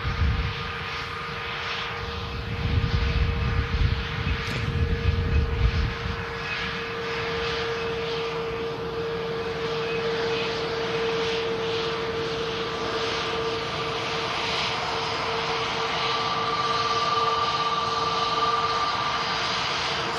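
An Airbus Neo airliner at Manchester Airport gives a sustained jet engine whine with a steady tonal hum, louder early on and then holding an even drone.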